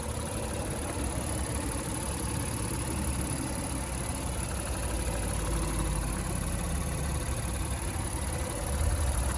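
A 2020 Honda Ridgeline RTL-E sits at a steady, smooth engine idle, a continuous even hum with no voices heard throughout.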